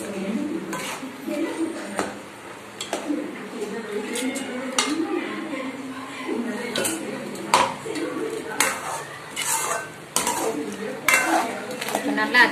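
A metal spoon scrapes and clinks against a pot while ground masala paste of onion, coconut, chilli, cumin and pepper is stirred into a simmering crab curry, in repeated uneven knocks under steady talking.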